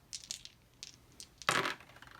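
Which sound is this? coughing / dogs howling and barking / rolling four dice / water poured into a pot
rolling four dice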